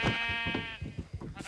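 A sheep in the video game Minecraft gives a drawn-out wavering bleat, followed by soft rhythmic game thumps, heard clearly without any voices.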